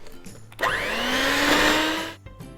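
An electric mixer whirs up and runs for about a second and a half, beating butter and sugar for a vanilla sponge cake, with a rising motor whine that then cuts off.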